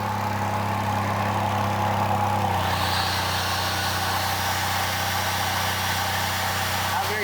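A 78-year-old generator engine runs steadily, a low mechanical drone with strong harmonic hum that shifts slightly partway through as the load changes, close and continuous.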